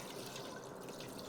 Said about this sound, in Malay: Dan kita letak air.